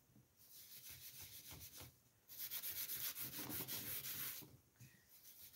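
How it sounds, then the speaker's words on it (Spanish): A work table is wiped clean by hand while recycling plastic containers, with soft rhythmic rubbing strokes that swell and fade, quiet and close. "Voy a limpiar un poquito la mesa de aquí."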